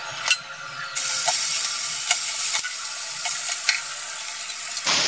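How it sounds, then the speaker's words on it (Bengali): Four pieces of rohu fish, washed and rubbed with salt and turmeric, frying in hot oil, a loud continuous sizzle with sharp pops and crackles scattered across it, close up and without talk. "মাছগুলো ভেজে নেব।"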